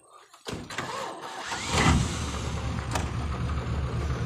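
A large truck engine at a sugar cane harvest starts up and settles into a steady rumbling idle after a few clunks, close by with a brief voice over it.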